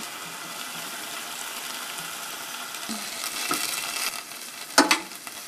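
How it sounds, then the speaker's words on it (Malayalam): A pan of honey chilli prawns sizzles steadily, then a flour-and-hot-water slurry splashes in and the sizzle flares briefly with a few sharp spatters. "2 ടേബിൾ സ്പൂൺ ചൂട് വെള്ളത്തിൽ 1 ടേബിൾ സ്പൂൺ മൈദ കലക്കിയതാണ്. ഇതൊന്ന് ഒഴിച്ചു കൊടുക്കാം."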